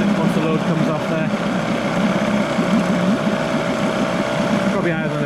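Johnson 4 hp Seahorse two-stroke outboard engine running on a test with its revs picking up as the load comes off: a continuous buzzing, slightly uneven drone heard close up, with no talking.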